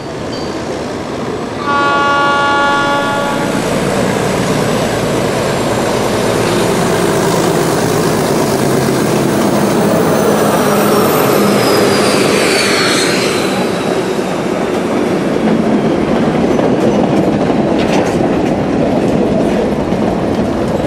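A train at a station platform in Peru sounds its horn in a short series of blasts, then rumbles and clatters loudly and continuously past close by, with squeals and metallic clanks along the rails.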